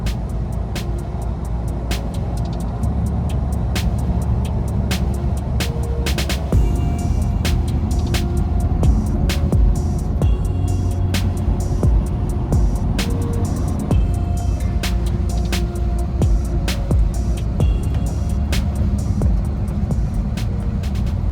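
A truck rolls along a highway in a steady, loud low rumble of engine and road noise, with faint rattles and clicks inside the cab running throughout.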